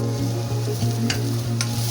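Capsicum sizzles steadily in a hot pan while a spoon or spatula stirs it, with scraping strokes against the pan recurring every half second or so, close and loud, with no voices.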